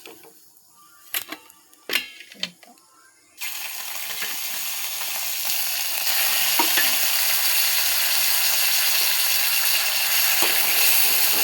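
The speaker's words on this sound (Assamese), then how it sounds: "এইকেইটা মাছ ফ্ৰাই কৰি হৈ গ'ল" Fish frying in a pan: a few clinks and knocks at first, then a loud, steady sizzle of hot oil that continues to the end with no voices.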